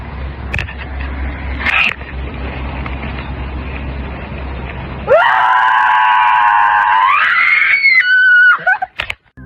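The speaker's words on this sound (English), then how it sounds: "a girl let out a loud, gut-wrenching shriek" A girl's loud, gut-wrenching shriek in the woods during a scream therapy session: a long, piercing, sustained scream that rises in pitch, ends in sharp breaks, and follows quieter rustling and muffled sounds.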